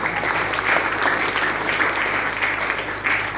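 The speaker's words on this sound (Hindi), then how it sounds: "ताली बजाइए।" A live audience claps in a steady, dense wash of applause at a Hindi-language motivational talk, sustained at an even level for the whole stretch with no voices over it.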